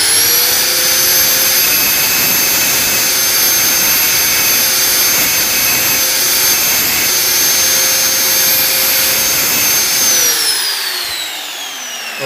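A power grinder runs steadily and loudly on a Honda GL Neotec engine part during assembly, holding a constant high whine for about ten seconds before spinning down and fading out.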